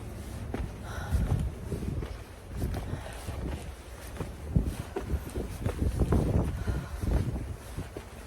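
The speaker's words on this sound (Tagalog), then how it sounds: "Lakas ng hangin." Strong, cold wind in Seoul, South Korea buffets the microphone in uneven rumbling gusts, rising and falling in loudness without any voices.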